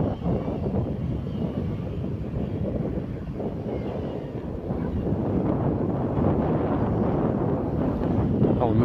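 Continuous heavy wind at the Falkirk Wheel buffeting a microphone, a loud low rumble that never lets up, with muffled faint sounds beneath it.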